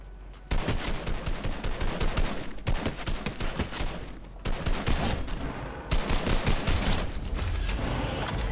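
Rapid bursts of automatic gunfire in the video game Fortnite, loud and continuous, with several volleys separated by brief pauses during a firefight.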